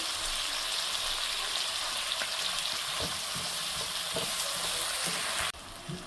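Onions fry with a steady, dense sizzle in a pan after a pinch of salt goes in, a continuous crackling hiss with occasional stirring taps, cutting off abruptly near the end into a quieter simmer.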